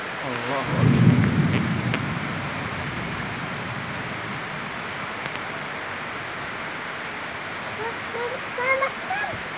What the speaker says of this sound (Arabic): أمطار غزيرة جدا.